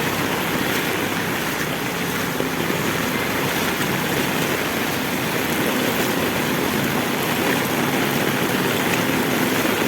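A motorboat engine runs on floodwater, a steady, loud, unbroken drone with broadband wash and no talk over it.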